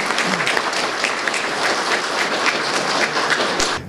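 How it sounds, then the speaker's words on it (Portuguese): Audience applause at a Conservative Party presentation and talk in Curitiba, a dense, steady burst of many people clapping that carries on throughout and stops abruptly at the end. "recebam com palmas, por favor."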